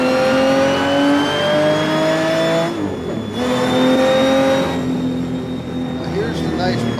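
A modded car engine in a racing video game revs loudly in sustained, rising whining tones, drops off briefly, then climbs again, with someone talking over it.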